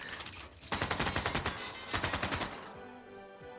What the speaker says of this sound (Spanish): Sacamos a nuestras unidades de ametralladoras